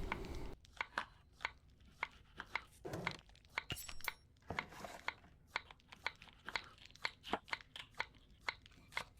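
Rapid knife chops land on a chopping board in the video game Magical Delicacy while wheat flour and rock salt are made into noodles, a brisk, irregular series of sharp, crisp taps, close and clear with no talk.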